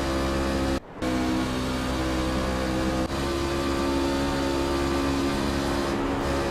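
A steady race car engine drone from an onboard view in a racing video game hums throughout at a constant pitch, broken by one brief dropout near the start, with no voices.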